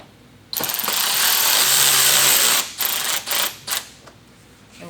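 Power driver sinking a screw into a bumper insert on a Toyota GR86, one sustained whirring buzz lasting about two seconds followed by three short trigger bursts, close and loud with no talking.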